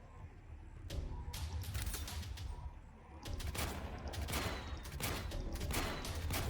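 Turret gunfire in the Warpips strategy game, bursts of rapid shots and whip-like cracks in dense clusters, loud and continuous across the clip with brief gaps.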